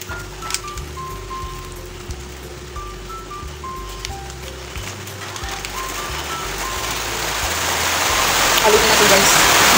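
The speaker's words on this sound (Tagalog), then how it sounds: "Kaya naman ang ulan." Rain falls steadily outdoors during home cooking, a soft hiss of drops that grows louder and denser toward the end, with a faint melodic tone in the background.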